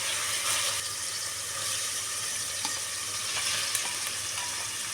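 Onion and garlic frying in olive oil for a Hatay-style zucchini dish, a steady close sizzle and crackle with a few faint stirring taps, no talk.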